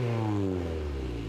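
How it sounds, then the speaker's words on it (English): A modified car's exhaust revs loudly and steadily, its deep engine drone rising in pitch, fitted with a temporary noise defect device that lets the driver turn the exhaust noise level up or down; no talking. "It allows the driver to turn up or down the noise level from the exhaust if they get pulled over by police."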